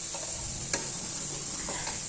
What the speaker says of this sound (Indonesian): Minyaknya sudah panas, kita mulai masukkan bumbunya. Bumbunya kita tumis dulu. Jangan lupa untuk diaduk agar matangnya merata.